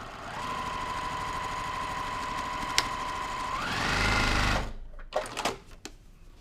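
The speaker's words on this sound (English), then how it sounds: "And then just stitch again." A sewing machine runs steadily while stitching a quilt block, a continuous whirring buzz with a rising pitch near the end before it stops abruptly, followed by a few faint clicks and handling noises.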